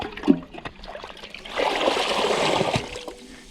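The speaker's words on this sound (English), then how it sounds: "if you keep going in and stirring the water up" Water in a fish container being stirred and agitated by hand, a soft trickling slosh that swells for a couple of seconds after a brief knock, fairly close and without talk.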